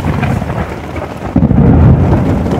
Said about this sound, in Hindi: तूफान लग रहे, मुझे लग रहा हम गलत आ गए भाई आज